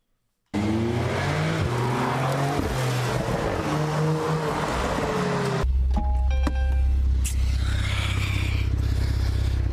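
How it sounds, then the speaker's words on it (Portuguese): Powerful car engines roar and rev loudly at close range, a steady throaty drone that shifts in pitch partway through. "Aqui são carros que fazem barulho."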